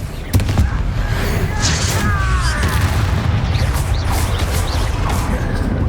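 Spell blasts and explosions in the Hogwarts Legacy video game, with booming crashes and a dense, continuous rumble of combat effects running throughout.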